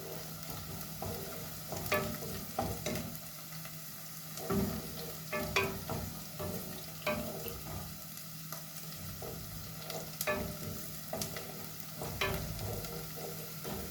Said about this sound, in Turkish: Soğanla havucunu iyice kavuruyorum arkadaşlarım içine, bamyamın içine.